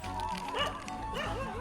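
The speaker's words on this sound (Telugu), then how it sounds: "బయట కుక్కలన్నీ అరస్తానే ఉన్నాయి." Dogs bark and yip outside a home in short, pitched bursts that rise and fall, fairly close and clear, with a low background hum.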